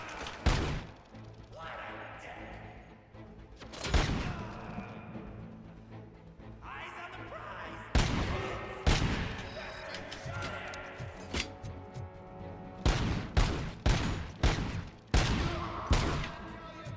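Sharp video game gunshots crack out in bursts, single bangs and rapid clusters with quiet gaps between, while someone talks over the quieter stretches.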